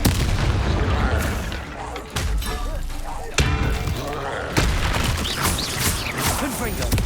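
Fire spell Incendio cast in the video game Hogwarts Legacy, with sharp whooshing bursts and booming impacts amid a dense, continuous combat mix.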